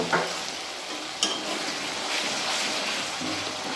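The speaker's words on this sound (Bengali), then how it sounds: "ভাজা হচ্ছে টমেটোটা আরও গলে যাচ্ছে" Spices and tomato fry in a pan for a coriander pabda fish curry, a close, steady sizzle with a couple of sharp stirring scrapes and clinks.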